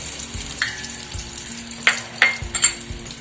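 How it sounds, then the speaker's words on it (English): Dabeli spice mix sizzles in a tablespoon of hot oil in a pan, a steady close frying hiss broken by a few sharp scrapes and clicks as it is quickly stirred. "give it a quick stir"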